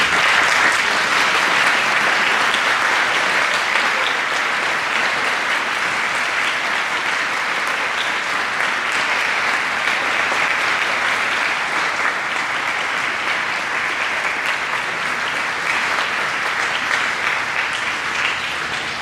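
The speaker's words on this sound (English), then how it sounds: "let's take a moment here and recognize them and clap them out right now" A large audience at a fifth grade closing ceremony claps steadily and loudly for the lower school faculty, a dense unbroken wash of applause lasting nearly twenty seconds with no speech.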